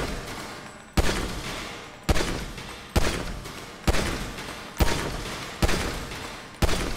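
Single pistol shots in the GTA 5 video game at shooting practice, eight sharp cracks spaced about a second apart, each trailing into a short fading echo, with no talk over them.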